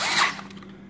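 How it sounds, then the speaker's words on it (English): A cordless power drill briefly snugs down an intake manifold bolt on a hand-built Ford 302/347 engine, a short whirring burst that quickly fades, close and fairly quiet. "I'm just going to go ahead and snug these down with my drill,"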